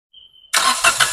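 A car engine, jump-started with a V-Toman portable jump starter, fires up abruptly and runs loud and close after a faint thin beep, with no talking.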